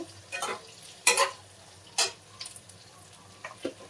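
Eggplant (vankaya) pieces frying in a pan while being stirred, with soft sizzling under a few sharp scraping strokes of the spatula, close and fairly quiet.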